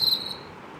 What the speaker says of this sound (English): Next, grasshopper 3D.